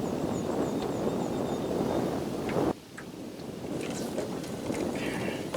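Wind gusts roar across the microphone outdoors on the water while fishing, a loud continuous buffeting rush that briefly drops then builds again, with faint chirps behind it.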